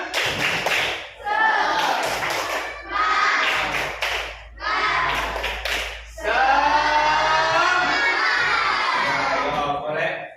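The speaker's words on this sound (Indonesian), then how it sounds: "tepuk semangat." A school class doing a rhythmic spirit clap, children clapping and chanting together in four loud bursts separated by short pauses, with the last burst the longest.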